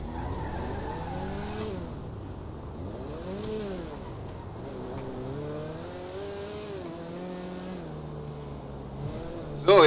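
A tuned Toyota in a GTA roleplay game drives off, its engine note sweeping up and down through gear changes with faint tire squeal, steady and moderately loud, ending in a sharp bump.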